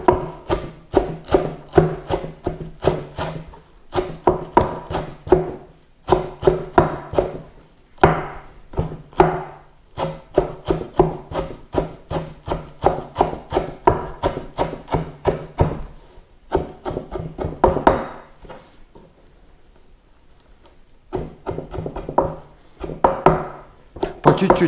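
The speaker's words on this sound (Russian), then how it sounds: "Кинзи нарезаем." A knife chops cilantro rapidly and rhythmically on a wooden board, bursts of quick strokes separated by short pauses, close and fairly loud.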